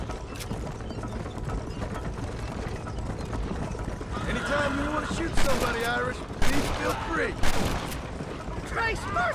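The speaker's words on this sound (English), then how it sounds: "They're shooting right at me." Gunfire in the Red Dead Redemption game on PS3: a dense, continuous barrage of shots with sharp louder bursts, set against horse hooves and mechanical clatter, with character voices speaking over the noise.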